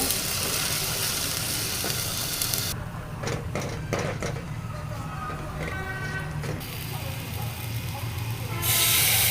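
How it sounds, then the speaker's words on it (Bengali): Onions and spices sizzling as they are fried and stirred in a pan for pigeon curry: a loud, continuous hiss that briefly quietens to light crackling and clicks, then swells again near the end. "মশলাটাকে ভালো করে পেঁয়াজগুলোকে কষায় নেব"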